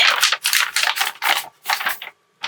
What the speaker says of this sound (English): sorry for that crinkling